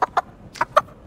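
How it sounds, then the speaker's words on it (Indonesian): A toy chicken clucks in the film Red One, giving four short, bright clucks in quick succession, close and fairly loud, with no talking over them. "Kel lalu meminta mainan ayam-ayaman agar mengalihkan perhatian Hellbound"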